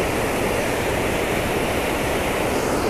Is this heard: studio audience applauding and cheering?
no